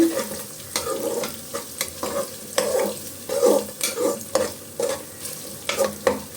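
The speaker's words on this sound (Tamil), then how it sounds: "புதினாவை போட்டு நல்லா வதக்கி வச்சு" Mint leaves sautéing in a pan, with steady frying sizzle under repeated scraping and stirring strokes from a utensil, close and fairly loud throughout.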